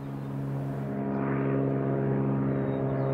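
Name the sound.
seaplane flying to Karluk Lake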